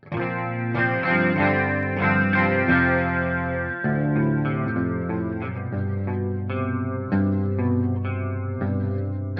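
Electric guitar chords and notes ring out through a shimmering chorus effect, wavering and slightly echoing, played alone without any talking.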